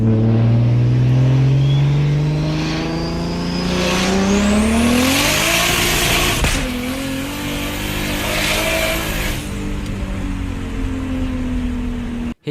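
A 700 horsepower BMW 135i accelerating hard on a street, the engine note climbing steeply through the gears with a brief dip at each shift, loud and close, roaring alone until an abrupt cut at the end.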